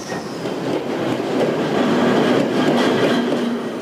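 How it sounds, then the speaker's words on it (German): A Berlin S-Bahn train, line 1 or 2, runs through the disused Potsdamer Platz underground station in 1990 with a loud continuous rumble and wheel clatter that swells and holds throughout. "Alle 10 Minuten kommt die S-Bahn Linie 1 und 2, um nach Sekunden wie ein Spuk wieder zu verschwinden."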